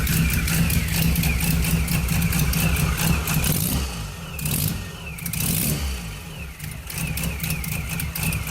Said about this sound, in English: it's running better than it ever has, Mark says